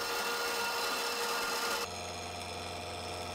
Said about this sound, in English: Here we are splitting a square tube in half to make the motor mount arm.